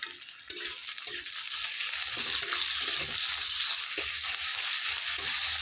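Onion and garlic fry in oil for a Bengali kachu loti dish, a loud continuous hiss and sizzle with a few soft stirring scrapes, close and unbroken.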